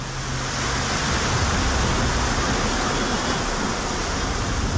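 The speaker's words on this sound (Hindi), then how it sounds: "गंगा की लहरें तांडव मचाती हुई बह रही हैं।" The flooded Ganges at Rishikesh, swollen after two days of torrential rain in Uttarakhand, rushes as a loud, dense, unbroken roar of churning water and waves.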